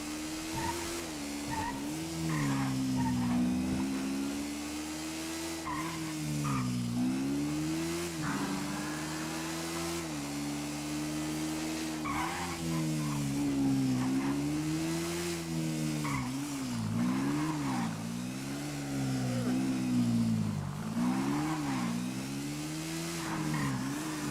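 A car engine in the video game GTA 5 revs up and down over and over, its pitch rising and falling in waves, with occasional squeals and no voices.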